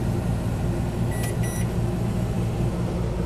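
A microwave oven in a 2013 Lance truck camper hums with a steady low drone, and two short electronic beeps sound about a second apart partway through.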